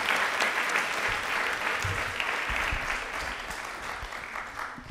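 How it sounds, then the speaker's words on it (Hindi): Studio audience on a televised quiz show applauding a guest, steady moderate clapping for about five seconds with no voices over it. "तालियां भी एक बार जोरदार हो जाएं।"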